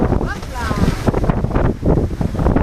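Waves slap and wash against an electric catamaran at sea off Saint-Raphaël, heard close under strong wind buffeting the microphone, with a voice talking over the churning water.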